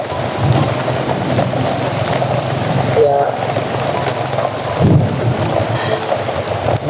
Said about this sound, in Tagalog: umuulan pa rin tol.